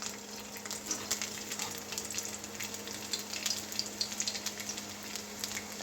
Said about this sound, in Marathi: सर्वप्रथम कढईमध्ये लसूण टाकून घ्यायचं